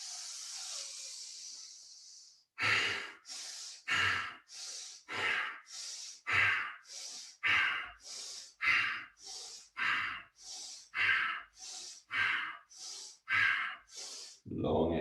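Ujjayi breathing pumps during a standing kriya: after a long hissy exhale, about sixteen quick, forceful breath pulses follow in a steady rhythm, each a sharp audible inhale or exhale, close and fairly loud, with no talking.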